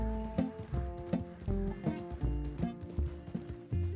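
Horse hooves clip-clopping in the video game Red Dead Redemption 2, a steady repeated trotting beat of muffled thuds, close and continuous over game music tones, with no talking.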